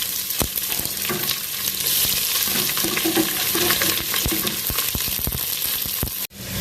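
Chopped onion hits a pan of browned coconut pieces and fries in a steady, close sizzle, with scattered scrapes and clicks of stirring throughout before a brief drop near the end.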